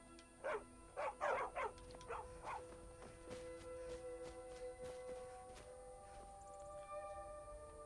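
A dog in the video game Skyrim barks in a quick burst of about five close barks, then falls quiet while faint clicks and steps continue over ambient game sound.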